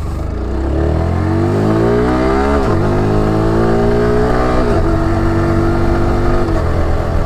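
A Yamaha R15M motorcycle revs up hard, its pitch rising through each gear before dropping abruptly at two quick-shifter upshifts, a loud close engine note with no talking.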